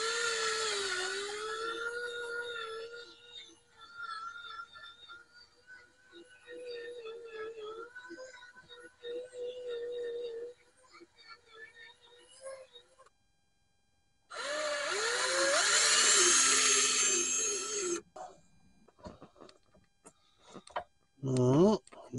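A voice talks for a while, then a power drill spinning a bore cleaning brush inside a brake caliper whirs loudly for a few seconds with a scrubbing rasp, followed by brief clicks.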